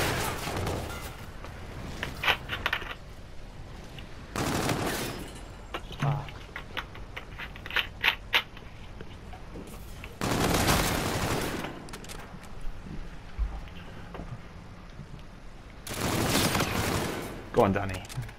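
Gunfire in the shooter video game Call of Duty: Infinite Warfare comes as several sharp bursts of automatic fire spread across the stretch, loud against quieter game noise, with players talking over it at times.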